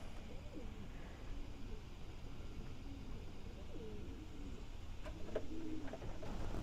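Roller pigeons coo softly outdoors in a loose, low murmuring rhythm, with a few louder nearby coos near the end over steady background noise.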